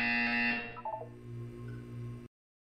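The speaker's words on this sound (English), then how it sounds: "When you hear the buzzer, look down at the floor." Buzzer from the Portal video game sounds once, a loud, steady electronic tone lasting about two seconds with a short stuttering blip partway through, then cuts off abruptly into silence.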